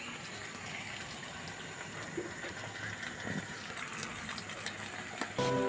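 A little water is poured into a pan of sautéed sardines with egg, making a steady, fairly quiet gush and sizzle that holds for several seconds.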